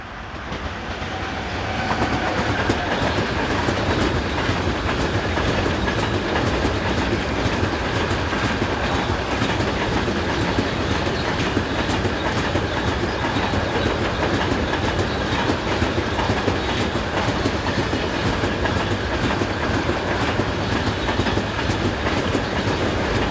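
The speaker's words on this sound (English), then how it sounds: "with 182507 being the first to appear on a car train bound for Bremen" Freight car train hauled by locomotive 182507 on the busy mainline between Fulda and Bad Hersfeld, a loud, continuous rumble and clatter of wagons rolling past close by for a long stretch, with faint wheel squeal.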